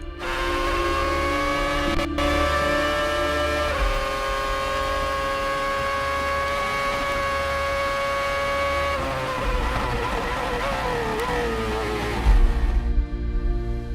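Formula 3 (GP3) race car at Monza circuit, a steady high-pitched engine drone held at speed, then shifting pitch as it changes gear and slows near the end, heard from onboard.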